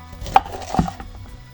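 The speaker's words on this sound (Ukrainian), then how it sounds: "тепер нарізаю перець на декілька частин" A knife chops through a bell pepper on a cutting board, two distinct close cuts followed by a softer third, with no talking.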